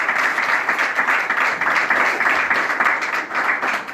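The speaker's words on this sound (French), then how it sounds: "j'aimerais qu'on applaudisse très très fort Monsieur Kofi" An audience applauds Koffi Olomide at a press conference, a dense, continuous burst of clapping from many hands that stays loud and steady throughout, with no voices above it.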